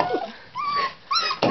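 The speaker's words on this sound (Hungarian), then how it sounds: "Ne vinyogj már!" Tibetan terrier puppies whine and yip in short high-pitched bursts, several overlapping cries rising and falling close by, with no talk over them.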